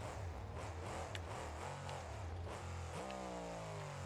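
In BeamNG.drive, a non-supercharged car engine runs with a steady rumble, then pulls into a rising rev partway through with changing pitch.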